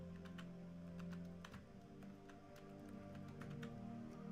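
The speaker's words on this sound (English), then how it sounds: "I'm going to type in Gob Mother." Rapid keyboard typing with a run of tapping keystrokes over a steady background hum, played at close range while someone searches a weapons menu in Gems of War.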